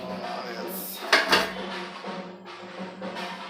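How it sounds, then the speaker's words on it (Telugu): A cooking pot is lifted out and handled in a home kitchen while chicken curry is being prepared, giving a short burst of metallic clatter and clinks near the middle over a steady low background hum. "సో మనమైతే ఒక గిన్నె తీసేసుకుందాం."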